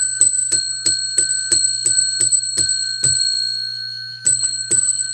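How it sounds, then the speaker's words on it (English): A hand bell rings again and again in a steady rhythm, about eleven close, bright strikes with a ringing decay, then a short pause and two more rings. "I'm going to ring the bell 11 times."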